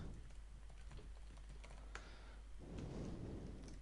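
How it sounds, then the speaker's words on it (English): Keys tapped on a computer keyboard while entering an email address during a forum software install, a quiet run of light clicks over a low steady hum with a faint rumble near the end. "Type in an email address."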